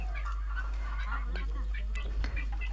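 A chicken given as a gift calls out in a series of short honking, squawking cries, fairly close, over a steady low hum.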